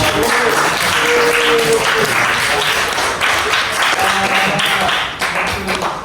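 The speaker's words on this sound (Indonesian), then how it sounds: "beri tepuk tangan kepada keempat." Classroom of eleventh-grade students clapping for four classmates during an Islamic ethics lesson, a loud, busy patter of hands with some voices mixed in, tapering slightly toward the end.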